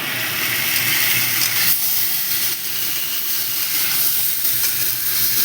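Ground bay leaf, cumin, coriander and dried chili sizzling in a hot pan, a steady dense crackling hiss that stays loud and even throughout with no talking.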